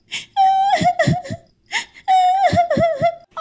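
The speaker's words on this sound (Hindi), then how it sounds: "रात की खामोशी में छोटे बच्चे की रोने की आवाज जंगल में दूर तक जा रही थी।" A cartoon baby parrot chick alone in its nest cries in two long wavering, whimpering bursts separated by a brief pause, close and loud with no other sounds.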